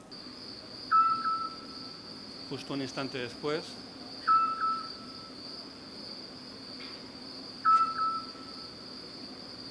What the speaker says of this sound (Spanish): El eco de este silbido de un autillo